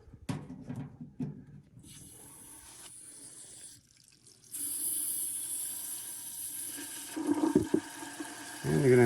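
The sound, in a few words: hot water draining from water heater into drain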